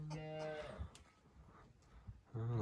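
In a warm barn during lambing season, goats and their twin kids are penned with sheep. Close bleating calls sound at the start and again at the end, with quieter rustling between.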